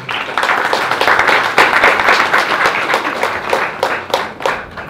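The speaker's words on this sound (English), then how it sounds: "So if we can give him a round of applause." A film screening audience at a Q&A claps steadily for several seconds, a dense patter of many hands with a few sharper individual claps standing out, fairly close and loud, with no talk over it.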